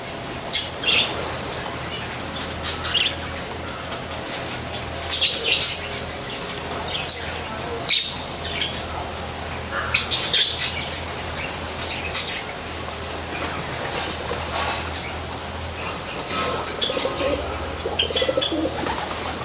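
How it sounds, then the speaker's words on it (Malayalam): Pigeons and long-tailed finches feeding in a home aviary, with soft repeated cooing from the pigeons and scattered high chirps and tweets from the finches, steady and close, broken by occasional brief rustles. "നമ്മൾ പ്രാവെല്ലാം നിലത്ത് വീണ ഫുഡ് ഇങ്ങനെ കഴിക്കുന്നുണ്ട്."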